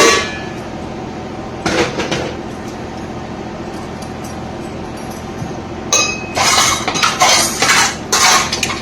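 Dishes and steel utensils being washed in an Odia home, with sharp clinks and clatters in two bursts, one brief and one busier near the end, over a steady background hiss. No one speaks.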